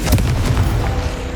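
A Confringo spell blast bursts in Hogwarts Legacy as a short, loud, close explosion with a deep booming body, heard on its own.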